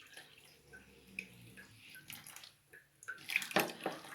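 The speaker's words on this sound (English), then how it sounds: "Pour water, hot water." Hot water is poured from a tap to clean makeup blending sponges with bar soap, giving a soft, close trickle and splash that swells near the end.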